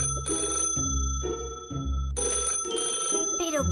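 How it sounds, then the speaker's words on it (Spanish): Mobile phone ringing in a Toca Boca game: a bright electronic ringtone repeats in several short bursts with brief gaps, fairly loud and close, with no talk over it. "¿Pero quién me estará llamando al móvil tan insistentemente?"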